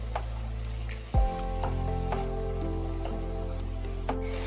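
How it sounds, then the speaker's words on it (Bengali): Potatoes, carrots and beans fry in a pan with a steady, close sizzle, briefly stirred. A sharp burst marks more ingredients hitting the hot oil. "আলু, গাজর, বিনস ভালোভাবে একটু ফ্রাই করে নিচ্ছি।"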